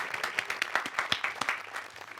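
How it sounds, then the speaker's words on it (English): Faint, sparse clapping comes from a small audience at an engineering business competition final. Individual claps land at an uneven rhythm for a couple of seconds. "they all deserve a huge round of applause from us"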